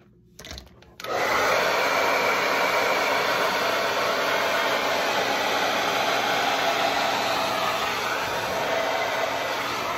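Hair dryer switching on after a brief rustle and then blowing steadily and loudly, close by, while hair is blow-dried into a smooth blowout, a constant whooshing roar with no talking.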